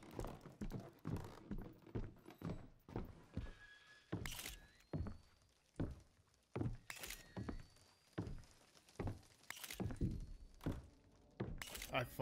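Heavy thuds and knocks from the horror game Visage, several loud sharp impacts spread through the stretch with creaks and ambient noise between them, while someone talks over it.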